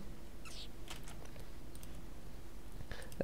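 A few quiet keystrokes on a computer keyboard, with light scattered clicks over a steady background hiss and no talking.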